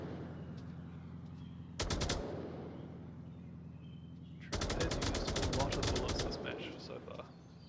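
A PK M249 machine gun in the VR shooter Onward fires a short burst, then a longer sustained burst of rapid rounds, loud and close over a low background hum.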